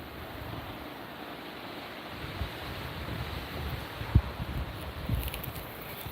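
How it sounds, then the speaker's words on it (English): Steady outdoor wind noise blustering past on a mountain with swaying trees, with low rumbling gusts and a few soft thumps, no voices. "Getting windy as well. Trees are dancing."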